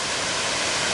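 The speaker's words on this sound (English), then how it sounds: "it looks like I'm gonna have to hike up this waterfall." A mountain waterfall roars in a steady, dense broadband rush, loud and close, with no pauses or voices over a single second.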